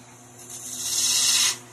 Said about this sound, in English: I'm going to uh, use my gouge now to start uh, doing the shaping uh, of the legs